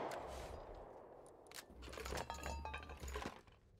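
Gunfire in the survival video game Rust, heard as a faint burst of rapid distant shots and metallic clinks over a steady low background hum, with no talking.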